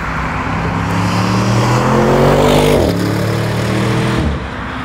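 An Audi RS 7 Sportback with 600 PS accelerates hard, its engine note climbing loudly through the revs, dropping sharply at a gear change, then rising again before easing off, close and without speech.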